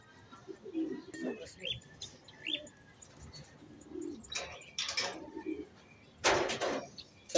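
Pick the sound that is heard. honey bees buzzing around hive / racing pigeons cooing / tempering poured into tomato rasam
racing pigeons cooing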